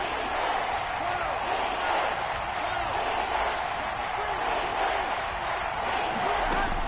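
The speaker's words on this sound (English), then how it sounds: "The crowd getting into it as we come up on a big third down." A large stadium crowd at a Bengals vs Dolphins football game roars continuously with a dense, swelling din before a big third down, and a voice talks faintly underneath.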